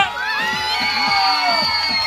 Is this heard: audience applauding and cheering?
yes